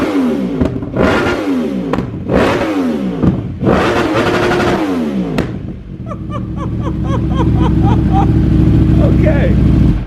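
A Yamaha R1M superbike fitted with a race air filter and flashed ECU revs hard in several sharp, rising bursts up close, then settles into a loud steady idle while people talk over it.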